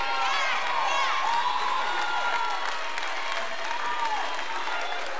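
A church congregation claps steadily and cheers during a worship service, a dense, sustained wash of hand claps with scattered shouts and whoops, fairly loud and close throughout.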